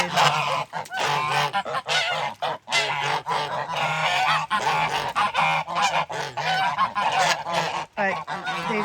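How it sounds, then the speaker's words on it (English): A group of geese honking loudly and continuously nearby, overlapping harsh calls in rapid bursts. "We have some breeding going on and get excited."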